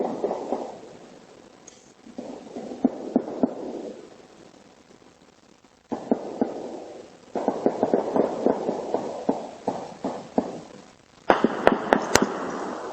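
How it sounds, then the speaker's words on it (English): Sharp gunshots crack in sudden bursts over a muffled, rumbling outdoor background at a graduation party, captured by a doorbell security camera, with a rapid cluster of loud shots near the end. "The gunfire captured on this Ring camera footage obtained by CBS 6."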